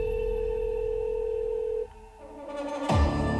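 Telephone call tone in a movie trailer: a steady electronic tone holds for nearly two seconds and then cuts off, followed by a rising swell of trailer sound.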